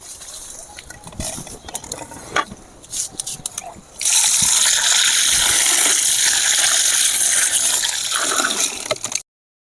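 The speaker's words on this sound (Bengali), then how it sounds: "এবারে আমগুলো আমি কলের কাছে ভালো করে ধুয়ে নেব।" Raw green mangoes being washed under a running tap, first with scattered splashes and handling, then a loud steady gush of water that cuts off abruptly near the end.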